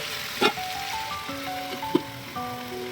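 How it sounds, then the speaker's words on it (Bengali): Potato and onion frying in a pan give a soft, steady sizzle through the whole stretch, broken by two sharp spits or clinks from the pan, with no talking. "আলু আর পেঁয়াজটা খুব ভালো করে ভাজা ভাজা হয়ে গেছে"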